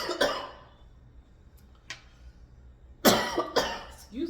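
A person coughs in short, sharp bursts: a pair early on, a single hack in the middle, then a cluster of three or four closer coughs near the end, against a quiet background hum.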